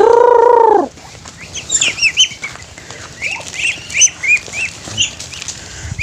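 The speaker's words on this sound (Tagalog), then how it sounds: "Pakainin muna natin yung mga bibi natin tsaka manok." Ducks and chickens being fed chirp and flutter nearby after a brief loud tone at the start, with scattered calls and wing flaps continuing.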